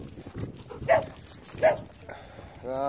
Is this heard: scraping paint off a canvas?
no